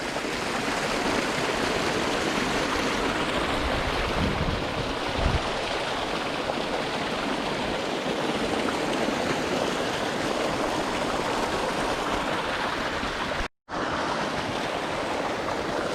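Spring water rushes steadily along a stream on an autumn outing, a loud, continuous broadband wash up close with no voices, briefly cut off near the end.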